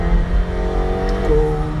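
The twin-turbo engine of a 2018 McLaren 720S accelerates hard, a loud steady drone rising in pitch with a brief shift near the end, heard from inside the car without talk.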